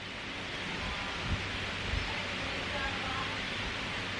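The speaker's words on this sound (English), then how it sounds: "I can't hear you because of the wind." Wind blows outdoors in a steady broadband roar buffeting close to the microphone, with a few low gusty thumps and no clear talking.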